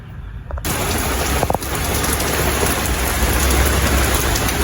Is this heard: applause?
no